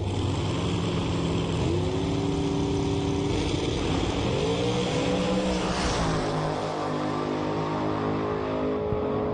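Dragster engines roar on a drag strip in a loud, continuous drone heard from a distance, with rising and falling whines as the cars rev and run down the track.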